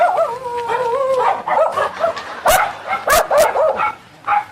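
A dog yelps and barks in a rapid series of sharp, loud bursts mixed with whimpering, howl-like whines, close by with no talk over it.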